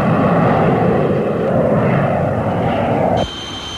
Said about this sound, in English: The Canberra is coming into squadron service, a sleek thing more beautiful to the eye than to the ear